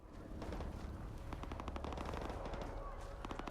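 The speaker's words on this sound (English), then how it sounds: "Oh, I hear gunshots." Rapid bursts of automatic gunfire in STALKER 2 crackle steadily over a game-like background hum, with scattered single shots mixed in.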